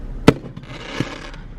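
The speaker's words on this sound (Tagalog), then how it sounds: "We're watching fireworks here" Fireworks go off, opening with one loud, close bang followed by a few fainter pops and crackles trailing away.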